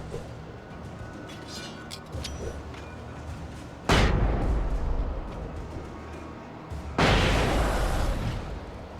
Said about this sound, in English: I'm running out of flashbangs.